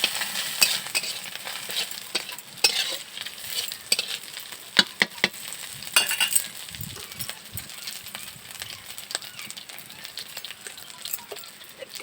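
Onions frying in a very hot kadai give a faint, steady sizzle, broken by occasional sharp clinks and scrapes of stirring against the metal.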